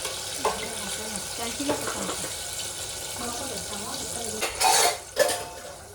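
Onion frying in a pan with a steady broadband sizzle, a few utensil clinks and clatters against the cookware, and brief bursts of louder crackle near the end.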